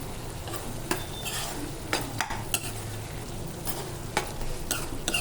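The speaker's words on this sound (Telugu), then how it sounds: "కర్రీ అడుగంటకుండా మధ్యలో ఇలా కలుపుకుంటూ ఉండాలి" A spoon stirs curry in a cooking pot, giving a steady scraping swirl with occasional sharp clinks against the metal, close and fairly loud, with no voices.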